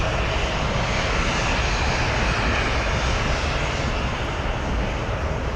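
Jet airliner engines roar steadily at O'Hare airport, a broad, loud, unbroken rushing drone with no pauses, as an Envoy Air Embraer and an American 737 taxi nearby.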